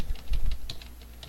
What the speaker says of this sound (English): you hit tab and use the number pad or the numbers on your keyboard to type it in